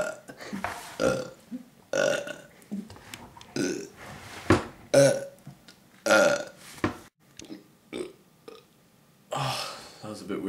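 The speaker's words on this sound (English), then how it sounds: "100 burps in 20 minutes" A person burps repeatedly during an attempt at a hundred burps in twenty minutes, producing a string of loud, close, throaty belches of varying length with short pauses and breaths between them.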